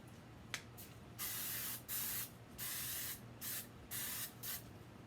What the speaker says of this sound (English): I don't like this pan stuff because it sprays too direct